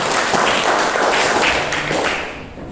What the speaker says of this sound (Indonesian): Mari kita tepuk tangan untuk Pater Doni.